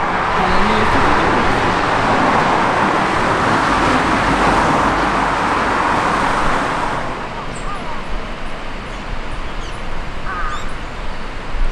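Road traffic with trucks rolling through a small tunnel, a loud continuous rumbling roar that fills the first seven seconds, then eases to a lower, steady hum of passing vehicles.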